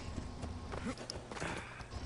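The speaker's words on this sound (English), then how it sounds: "look at the horse that I got right there. It's the horse of Hades." Hooves clip-clop on the ground in Assassin's Creed Odyssey as the horse of Hades walks, a steady, faint rhythm under game ambience and soft music.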